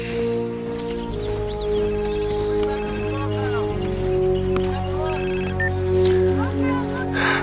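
A telephone rings repeatedly in trilling bursts over a continuous tonal background, with people talking around it at moderate loudness.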